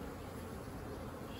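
Dense, steady hum of honey bees swarming around a hive opened for a split, with frames lifted out, continuous and close without any pauses.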